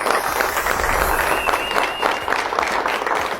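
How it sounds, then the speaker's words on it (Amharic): Warm applause rises for participants of a Saturday afternoon game event, a crowd clapping steadily and fairly close, with voices mixed in under the claps. "ሁሉንም ሞቅ ባለ ጭብጨባ ወደ የቦታቸው እንሸኛለን።"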